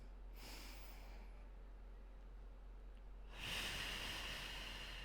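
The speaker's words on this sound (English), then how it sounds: "Deep breath in through the nose and out through the mouth." A deep breath during a beginner reformer Pilates workout, drawn in through the nose and pushed out through the mouth, the airy rush returning louder and closer after a quieter stretch.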